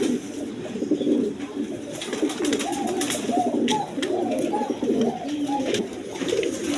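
Pigeons of several breeds, including Rajgolla, coo again and again at a seller's place, with soft overlapping calls close by and a faint hiss in the background.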